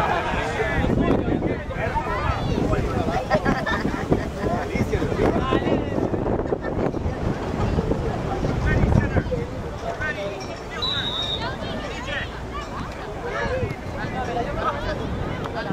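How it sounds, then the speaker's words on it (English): Gusty wind buffets the microphone at an outdoor U12 boys' youth soccer match, a steady low rumble with surges throughout, beneath shouting and chatter from people on the sideline. "The wind's gonna push it hard today!"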